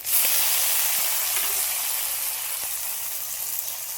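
Chopped onion hits hot oil over tempered spices, a loud steady sizzle and hiss that holds evenly throughout, close and without talk.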